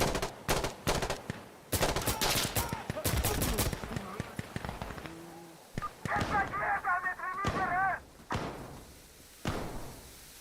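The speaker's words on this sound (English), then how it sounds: "AKM is pretty good in this game." Bursts of AKM rifle gunfire in a video game, several rapid sharp volleys in the first half and scattered single shots later, mixed with game effects and tonal beeps, loud and close.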